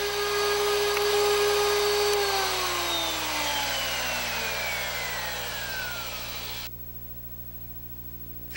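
A Drill Doctor sharpener grinds a small drill bit under light pressure, a steady high-pitched grinding whine with a descending tone, close and continuous for several seconds, then cutting off abruptly to quiet.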